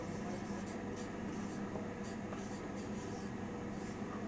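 Chalk or marker writes on a board during a maths lesson, a series of short scratchy strokes in an irregular rhythm, fairly close and moderately quiet over a low room hum.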